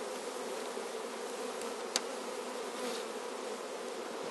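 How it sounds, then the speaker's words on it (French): Dense, steady buzzing of many honeybees close by around a hive frame during queen grafting, a continuous hum with one faint click partway through. "il y a beaucoup d'abeilles"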